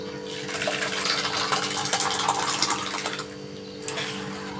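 Chhena for rasgulla rinsed under cold running water, a close, continuous gushing splash that briefly eases before resuming.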